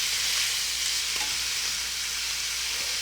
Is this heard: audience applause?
no